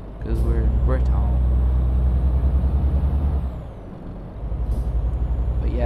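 A truck pulling a trailer in Euro Truck Simulator 2 on British roads, with a steady loud diesel engine drone, hissing air-brake bursts near the start and end, and a voice talking over it.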